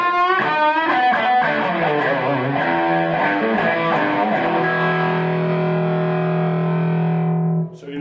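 An electric guitar played through a TC Electronic Dark Matter distortion pedal rings out with gritty, raw chords and notes, then a long sustained tone that decays before cutting off, loud and close.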